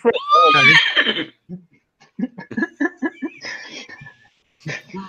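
A man vocally imitates a horse whinny, a loud, wavering, falling cry close to the mic, then goes on talking.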